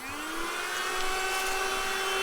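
A Yyton portable handheld car vacuum cleaner runs at a steady high-pitched whine with a rising motor tone, loud and close and heard alone.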